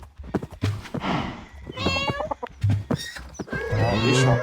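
High, thin kitten mewing calls in a video game repeat in quick succession, with clicky game-like sounds and a busy animal mix close behind them.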